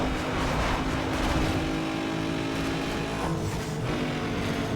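A car engine revs hard in a racing video game, a dense, continuous mechanical roar with shifting pitch as the engine nears over-revving, steady and moderately loud throughout.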